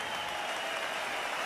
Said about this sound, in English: A round of applause for champion and challenger.